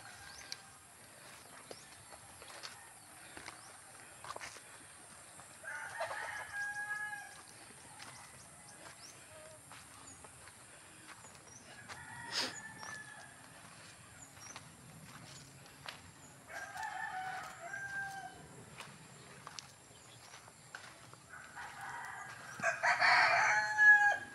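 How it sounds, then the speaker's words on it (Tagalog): A rooster crows a few times at a distance, short harmonic calls rising over a quiet outdoor background, with a louder crow near the end. "Manok."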